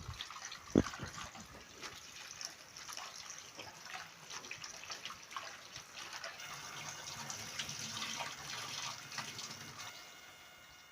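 Gongura leaves being washed by hand in water in a sink, with steady running-tap splashing and sloshing throughout, plus a sharp knock near the start; no talking.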